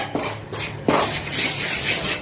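Flour roasting in a pan is stirred and scraped continuously, a close, gritty rubbing texture with a couple of sharper scrapes and no talk.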